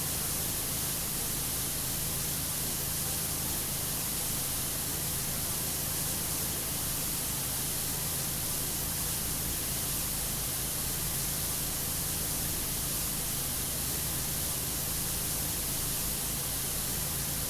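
A pressure washer nozzle on its strongest setting sprays without a break in PowerWash Simulator, a steady, dense hiss that stays at an even level throughout.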